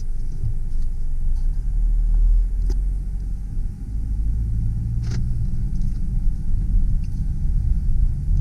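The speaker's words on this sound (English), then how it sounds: "Start off in reverse. No problems with reverse." A 2003 Mercedes C230 Kompressor with a supercharged 2.3L engine backs up in reverse, giving a steady low engine rumble with faint road noise throughout and no talking.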